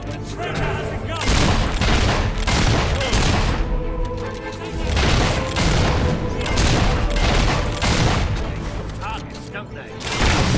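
Gunfire in Fable 3 on Xbox 360 comes in dense, repeated volleys, loud bursts of rapid shots and booms across the battle, with voices talking through it.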